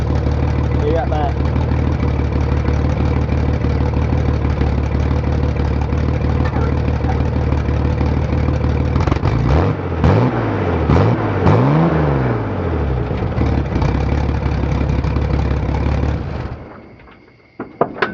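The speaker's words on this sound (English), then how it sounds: "Good exhaust shot. Just got a pipe coming out there. I'll rev it up." Loud truck engine with a single exhaust pipe idles steadily for several seconds, then revs up in a couple of rising and falling bursts before settling and cutting off near the end; no talking over it.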